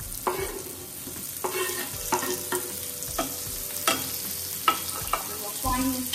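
Chopped onions fry and sizzle in a pan, with repeated scraping stirs and clinks of a utensil against the pan at an uneven pace, close by with no talking.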